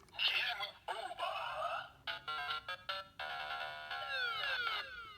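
Kamen Rider Ex-Aid DX Maximum Mighty X Gashat toy plays an electronic jingle with bright beeping tones in short bursts, then a descending chime sequence, fairly faint, a game-over tune.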